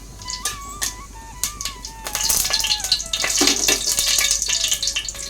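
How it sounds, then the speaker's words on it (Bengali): Cumin seeds dropped into hot ghee in a pan over a low gas flame, crackling and sizzling steadily at close range with small pops, the frying growing louder and denser, no talk. "এর মধ্যে ঘিটা গরম হয়ে গেছে, এর মধ্যে দিয়ে দেবো একটুখানি জিরে"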